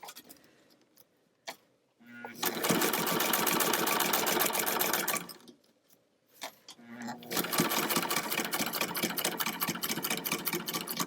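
A sewing machine stitches fabric in two long runs of steady, rapid mechanical whirring, each separated by brief pauses and clicks, heard close and loud, with people talking at moments.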